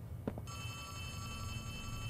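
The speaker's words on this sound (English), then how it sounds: "I'm not gonna answer the fucking phone." An old-style telephone bell rings in a horror video game, a short burst of ringing followed by a steady tonal ring over a low ambient drone.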